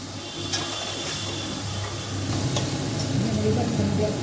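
Oil sizzling steadily in a pan while cooking muri ghonto, a constant bright crackle with faint clicks, loudening slightly toward the end and with no talk over it.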